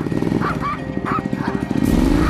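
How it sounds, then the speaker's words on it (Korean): A dog barks and yips in quick bursts at an approaching motorcycle, loud and close, as a rising engine whine builds toward the end. "오토바이가 등장하자 곧바로 짖기 시작하는 두부."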